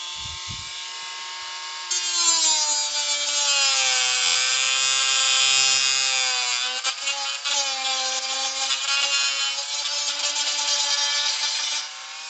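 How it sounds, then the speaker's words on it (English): A Dremel rotary tool cuts through a plastic NES console case, a steady high-pitched whine with shifting pitch that runs nearly the whole time, close and loud, after a brief quiet start. "All right, Dremel, I don't need but like a couple more minutes out of you, and you can die peacefully."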